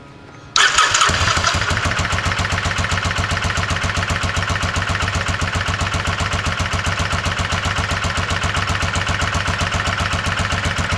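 A 1988 Kawasaki Vulcan VN750 motorcycle engine cranks and catches after half a second, then runs at a steady, loud, close idle with an even rapid pulsing throb for the rest of the clip, no voices.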